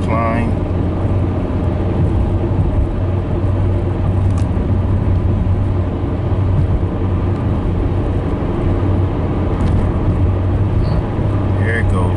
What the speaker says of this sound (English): Try to hold it up at 3000 RPMs as I constantly climb.